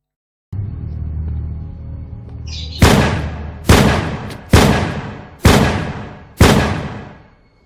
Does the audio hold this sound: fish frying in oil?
no